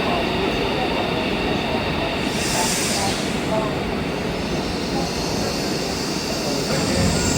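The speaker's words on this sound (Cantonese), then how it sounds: "而家我哋喺韶關準備咧上高鐵去到深圳北" High-speed train at Shaoguan station, a continuous loud rolling rumble and hiss filling the whole stretch, steady with no pauses.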